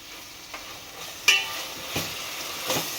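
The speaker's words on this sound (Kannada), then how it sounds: "1 ನಿಮಿಷ ಕೈ ಆಡೋಣ" A spoon stirs tomato and chili sauces in a frying pan for veg hakka noodles, a few soft scrapes and knocks over a faint, steady sizzle.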